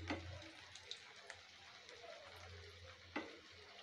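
Cabbage Manchurian balls deep-fry in oil over a medium flame, giving a soft, steady sizzle at low volume with a few faint clinks and bubbling pops.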